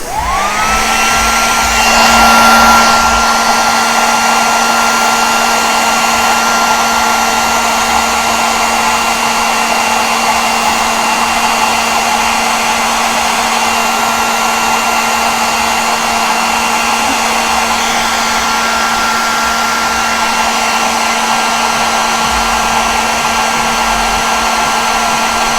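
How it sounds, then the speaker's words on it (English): A blow dryer runs steadily at close range, drying paint on a miniature figure: a loud, constant whirring roar with a steady hum that lasts the whole stretch, with no talking. "Let me give this a quick dry with the blow dryer here."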